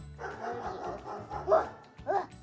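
A voice imitates a dog barking with a few short, yappy woofs, close and fairly quiet.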